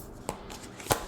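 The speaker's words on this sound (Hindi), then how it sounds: "चलिए आपके लिए कार्ड्स निकालते हैं।" Tarot cards are handled and drawn for a reading, two quick papery flicks about half a second apart, close and soft against a quiet room.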